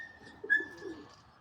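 Pigeons being let out to fly on a late December afternoon give a brief soft coo with a faint whistling chirp, quiet and fairly close, with no talking.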